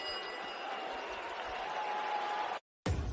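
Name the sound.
boisterous home Latvian crowd applauding at boxing arena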